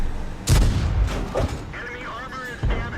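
Tank cannon fire in World of Tanks, aimed at a C-25, comes as several heavy booming shots at irregular intervals, with in-game whining and engine noise between them and a voice talking.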